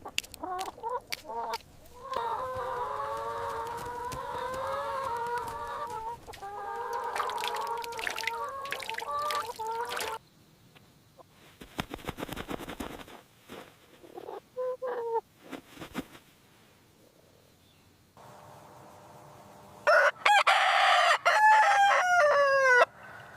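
Hens clucking and a rooster crowing on a chicken farm, several loud crows and bursts of clucking with quiet gaps between, close and without talk.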